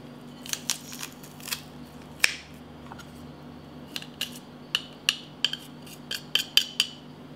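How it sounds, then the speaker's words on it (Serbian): A garlic clove is crushed in a metal garlic press. Sharp, close clicks and small crunches come in irregular bursts, with a louder cluster near the end over a quiet hum. "Potom 1 čen belog luka stavljam u presu i usitnit ću ga."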